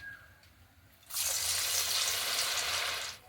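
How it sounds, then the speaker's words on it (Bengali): Potato snacks deep-frying in hot oil, a loud, steady broadband sizzle that bursts in after a quiet second and holds close and even until it fades near the end; no voices. "একইভাবে বাকিগুলো ভেজে নেব।"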